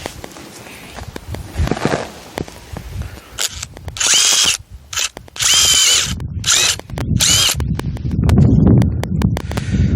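A power drill bores a hole into a 50 mm irrigation pipe to fit a drip irrigation saddle. Several loud, close whining bursts come between handling clatter, ending in a heavier grinding run.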